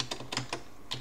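Keys tapped on the numeric keypad at the right side of a PC computer keyboard, a few quick clicks in short bursts with pauses, close and fairly quiet, no voices.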